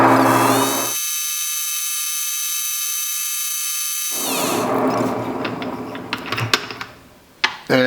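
A gem-faceting machine's lap spun up to high speed to dry it, a steady mechanical whine that holds for a few seconds, then winds down into scattered clicks and knocks.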